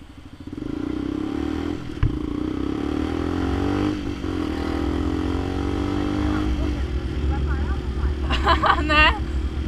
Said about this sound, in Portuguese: Essa moto tá acelerada agora. Tá louca, ela ficou acelerada do nada.